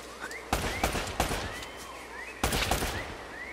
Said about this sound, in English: Oh, I'm being shot from right.